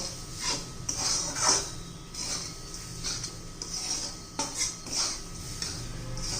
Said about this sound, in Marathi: छान असं फिरून घ्यायचं व्यवस्थित मिक्स करायचं